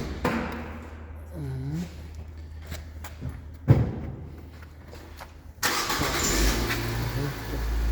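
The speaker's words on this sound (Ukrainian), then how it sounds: "Зараз заводи автомобільчик." A used car imported from Europe cranks and fires up at a dealership lot, after a brief voice and a few thumps, settling into a loud steady engine idle close by.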